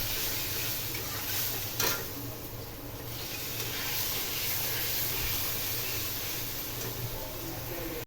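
Spice paste frying in a pan gives a soft, steady sizzle and hiss, with occasional scraping as it is stirred, fairly faint and close.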